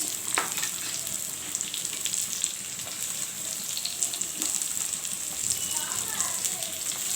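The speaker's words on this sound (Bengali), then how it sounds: "একটু ভাজা ভাজা হয়ে এসে গেলে আমি দিয়ে দিচ্ছি কুচানো পেঁয়াজ" Chopped onion sizzles steadily in hot oil, a loud continuous crackling hiss that fills the whole stretch.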